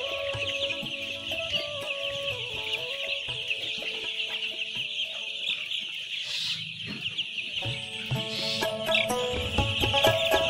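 Young layer chicks at a poultry farm keep up a constant chorus of shrill peeping, many birds at once, close and steady throughout with occasional louder cheeps.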